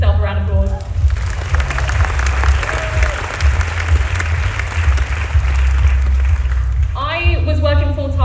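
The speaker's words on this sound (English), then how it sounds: "give yourself a round of applause" Loud, dense applause from a large audience at an outdoor vegan camp-out talk, sustained for several seconds with a voice speaking briefly at the start and again at the end.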